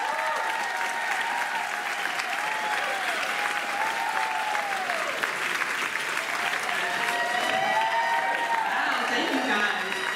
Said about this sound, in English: Big round of applause in welcoming our stage manager, Nereida.